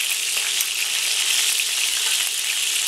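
Beef pieces sear and brown in a hot pan for a stifado stew, giving a steady, dense crackling sizzle that stays even and close throughout with no voices.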